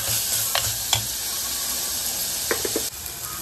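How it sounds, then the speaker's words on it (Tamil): Onions frying in a pan for a Tamil lunch dish, a steady close sizzle with the scrape and clink of a spoon stirring a few times, the sizzle dropping slightly near the end. "இப்போ வெங்காயம் நல்லா வதங்கிடுச்சு."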